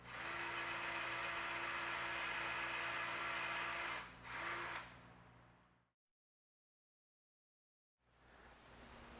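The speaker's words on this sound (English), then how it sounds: "Now I'll use that as my guide to drill a 1/4 inch through the upright for the screw" Power drill boring a 1/4 inch hole through a wooden upright, a loud steady whine for about four seconds, a brief pause, a short second burst, then silence before the motor spins up again, close by.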